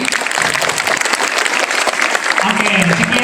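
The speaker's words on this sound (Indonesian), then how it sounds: "Tepuk tangan untuk Kak Andri." A scout troop gathering bursts into dense, loud applause for Kak Andri, the clapping sustained throughout, with a voice briefly rising over it near the end.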